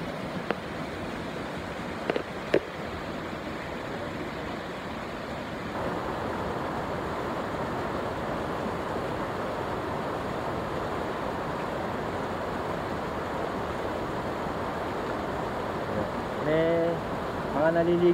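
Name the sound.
waterfall water flowing at Mount Banahaw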